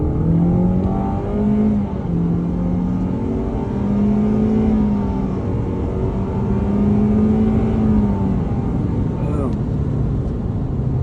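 A 2025 Toyota Corolla Hatchback engine pulls hard at full throttle on a highway on-ramp, a steady rising drone with harmonics climbing over several seconds, loud and continuous with road noise beneath.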